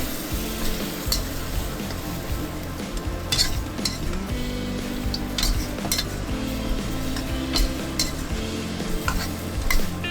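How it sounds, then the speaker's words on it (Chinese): Chicken stir-frying in a wok over high heat, a constant dense sizzle with repeated metallic scrapes and clinks of the spatula against the wok, close and continuous with no talk. "再加入1勺鸡精，翻炒均匀"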